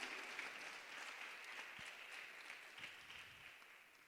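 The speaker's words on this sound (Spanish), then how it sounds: "Dale un fuerte aplauso al Señor." Applause from a church congregation during a sermon, a continuous, fairly faint wash of many hands clapping heard from a distance and sustained throughout.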